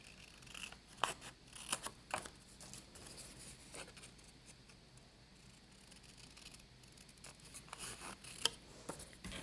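Scissors snip through paper scraps while a file folder folio is trimmed, a quiet close series of irregular crisp cuts and rustles with short pauses between them.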